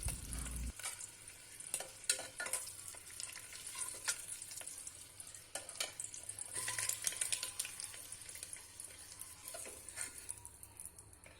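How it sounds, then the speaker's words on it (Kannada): Eggs fry in hot oil inside a pressure cooker, giving a continuous crackling sizzle with occasional stirring scrapes and clinks, close and steady with no talking. "ಮೊಟ್ಟೆ ಕಲರ್ ಚೇಂಜ್ ಆಗಬೇಕು, ಅಲ್ಲಿವರೆಗೂ ಎಣ್ಣೆಯಲ್ಲಿ ಫ್ರೈ ಮಾಡ್ಕೊಳ್ಬೇಕು."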